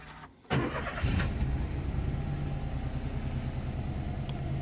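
A Peugeot 108 five-speed manual hatchback with just under 21,000 miles fires up from its stop-start button: a brief starter whirr, then the small engine catches and settles into a steady, close idle with no talking.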